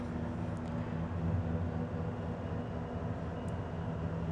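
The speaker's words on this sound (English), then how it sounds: "we're going ahead and lowering down the TV" A motorized TV lift lowering a television at full speed, giving a steady low mechanical hum and whir that holds at an even level throughout, with no voices.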